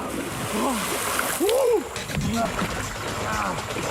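A large fish splashes and churns heavily in Amazon river water nearby, with voices shouting over the continuous rushing of the river.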